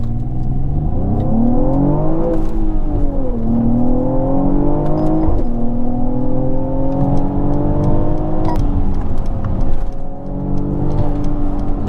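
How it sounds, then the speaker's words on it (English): A car exhaust revs repeatedly, the engine note climbing and dropping through several loud rising sweeps with brief pauses between shifts. "The exhaust sounds really very nice."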